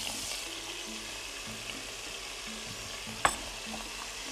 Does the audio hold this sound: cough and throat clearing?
no